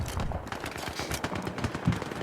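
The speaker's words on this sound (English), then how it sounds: "Fireworks." Fireworks going off in a rapid, crackling barrage of dense overlapping pops and bangs, loud and continuous with a few sharper reports near the end.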